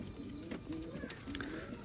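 Low, soft coos from old-breed Khulna highflying pigeons repeat in a steady rhythm close by, with faint chirps and light background noise.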